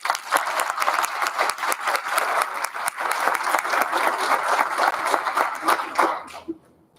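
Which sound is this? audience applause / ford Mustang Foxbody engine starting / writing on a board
audience applause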